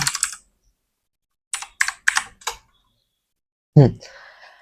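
Someone types on a computer keyboard while designing a YouTube thumbnail, making short bursts of close, crisp key taps separated by silence. A voice speaks briefly near the end.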